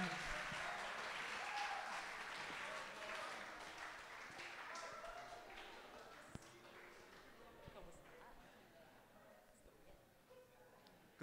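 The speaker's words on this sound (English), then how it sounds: "Let's give him a round of applause." Faint, distant applause from an audience at a campus developer event in a college hall, a steady wash of clapping that thins out over several seconds, with voices mixed in.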